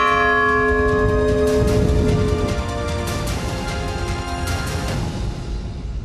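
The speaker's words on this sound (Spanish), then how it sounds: "no puedo resistirme la tentación de terminar tocando una vez más esta campana" A large church bell rings loudly, its rich overtones sustaining and slowly decaying, with a second strike blending into the lingering hum.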